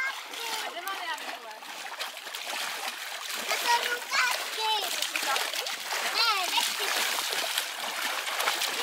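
Water splashes and sloshes in a backyard swimming pool as waves are made, with repeated splashes under excited children's voices and chatter throughout.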